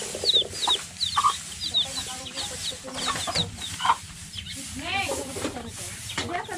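A hen with six newly hatched chicks clucks softly and repeatedly while the chicks cheep in high, quick peeps, all close by, with faint voices under the birdsong.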